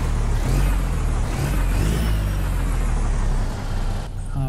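A Peterbilt 377 truck engine in American Truck Simulator rumbles loud and close as a deep, steady diesel idle, then drops off abruptly near the end, with no talking.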